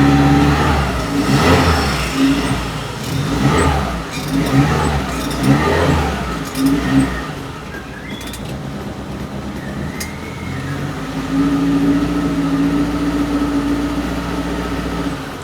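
A 1995 Suzuki Carry engine revs in repeated surges, rising and falling under a steady mid-pitched hum, then settles into a smoother idle with a faint whine near the end; close and fairly loud, with no talk.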